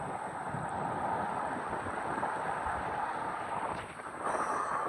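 Strong wind roars steadily across a flooded area in Sri Lanka, constant broadband rushing and buffeting against the microphone with a brief dip near the end, no voices heard.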